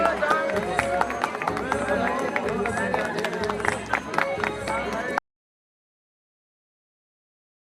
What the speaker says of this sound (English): Let's give them a big round of applause once again.